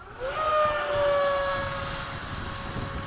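An FMS Hawk RC model jet flies past at sunset over an RC flying field, its turbine-like whine rising in pitch then holding a steady tone as it passes, fairly loud and continuous with no talk.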